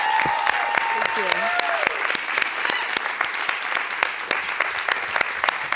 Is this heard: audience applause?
yes